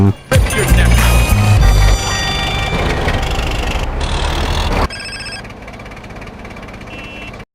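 A phone rings in GTA San Andreas Definitive Edition, a loud electronic ringtone with repeated tonal pulses layered over game music and ambience, then cutting to a quieter, thinner backdrop.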